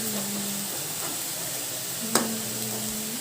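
Onions sizzle in a hot pan on a home stove, a steady close frying hiss with occasional stirring scrapes and one sharp clink, loud and continuous with no voices over it.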